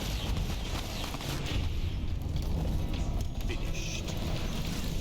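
Explosion in the video game Fallout New Vegas, a dense low rumbling boom that fills the whole stretch, loud and continuous with rough crackling texture and no clear separate blasts.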